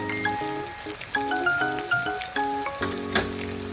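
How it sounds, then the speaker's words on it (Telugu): Cumin, turmeric and green chillies fry in hot oil for a potato curry with tomato chutney, giving a close, crackling sizzle beneath a prominent melodic tune. "ఇవన్నీ మంచిగా ఫ్రై చేసుకోవాలండి"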